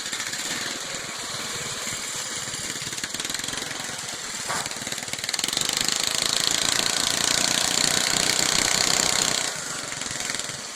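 A John Deere lawn tractor fitted with a Cub Cadet transaxle runs steadily nearby, its small engine giving a rapid knocking chug that grows a bit louder midway before easing back.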